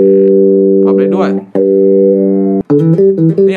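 Bass guitar played through a NUX Mighty Bass 50BT amp with a touch wah effect, loud sustained notes with a sweeping, vocal-like filtered tone, briefly cut off and then restarted.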